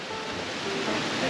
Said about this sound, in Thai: โอ้ดูน้ำตก ใช่มีน้ำตกด้วย